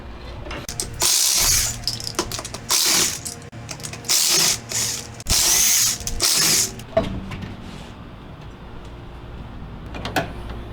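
A jack under a 1999–2004 Jeep Grand Cherokee's transmission cross member is ratcheted in several long, loud mechanical bursts during the first seven seconds, with quieter clicks and handling noises afterward and no talking.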